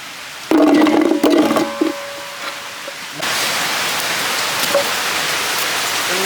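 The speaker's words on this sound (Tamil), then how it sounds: "மழை பார்த்தீங்கன்னா எங்கள் ஊரில் சரியாக அடித்து ஊற்றிக்கிட்டு இருக்கு" Heavy rain pours down on a Kerala village home: after a brief burst of other noise, a dense, steady hiss of downpour sets in and continues loud and unbroken.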